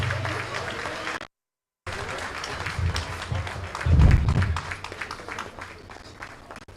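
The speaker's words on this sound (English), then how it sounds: "Let's give him another round of applause" An audience at a Liberian association's 50th anniversary celebration claps in a steady, moderately loud wash of applause that swells briefly near the end, with a short gap of silence partway through.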